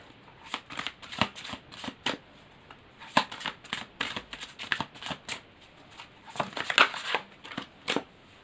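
Tarot cards are shuffled for a reading, a quick run of soft riffling and slapping bursts repeating close up at a low, even level, with no talking.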